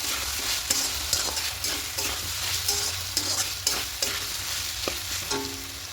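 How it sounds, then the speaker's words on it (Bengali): Poppy seed paste with green chilli and milk is stirred and fried in a pan, a constant sizzle broken by regular scraping strokes of a spatula, close and with no talking. "এবার একটু খুব ভালো করে মিশিয়ে একটু কষিয়ে নেবো"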